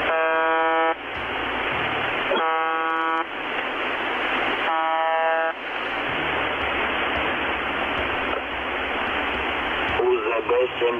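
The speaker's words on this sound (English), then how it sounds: "It emits 25 buzz tones per minute" A shortwave radio station sends repeated harsh buzz tones, each lasting about a second, over steady static hiss, with a brief garbled voice near the end.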